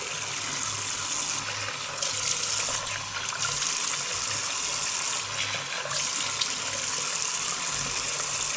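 Tap water runs steadily for several seconds in a home setting while someone washes their face, a continuous broadband hiss with small shifts in flow and no talking.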